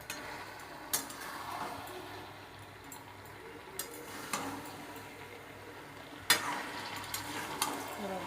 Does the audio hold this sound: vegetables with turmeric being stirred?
yes